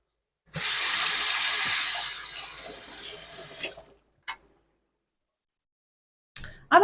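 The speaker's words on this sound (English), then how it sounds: "I gotta wash my hands." Hands washed under a running kitchen tap, a steady rush of water for about three seconds that then stops, followed by a few brief drips and clatters close by.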